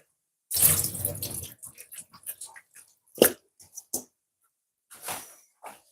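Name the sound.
water draining from chicken into sink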